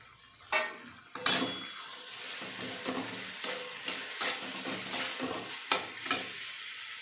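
Potatoes and mixed vegetables sauté in hot oil for a Makar Sankranti mixed bhaji, a continuous close sizzle broken by a regular series of spoon-scraping stirs against the pan.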